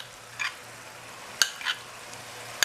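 Chickpeas frying in a pan with whipped yogurt for Lahori chikar cholay, with faint continuous sizzling and a few soft stirring scrapes and clicks of a spoon against the pan.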